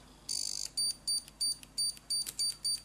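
A faulty low-cost multimeter's quiet intermittent buzzer beeps: one longer rapid buzz, then a regular series of short, evenly spaced high beeps, clear against a near-silent background.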